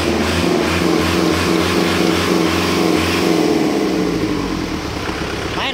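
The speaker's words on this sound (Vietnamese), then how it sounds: "Máy nổ rất là đã luôn nha bác." Kubota 5018 tractor engine running loud and steady nearby, a throbbing diesel rumble with rhythmic pulsing that eases slightly toward the end, no voices over it.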